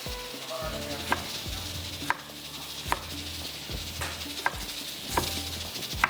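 Onions frying in a pan until brown give a steady sizzle for a Lucknowi qeema tarka, broken by a few sharp stirring clanks at regular intervals, close and without talk.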